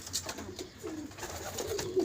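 Domestic pigeons coo softly inside a loft, a few low murmuring calls repeating close by over faint background rustle, with no speech.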